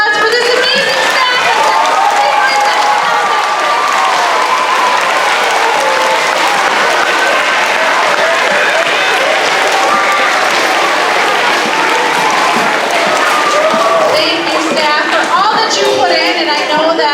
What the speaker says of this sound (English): give a great round of applause for this amazing staff